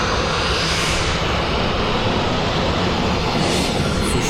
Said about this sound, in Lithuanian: Su šituo lėktuviuku skrysim.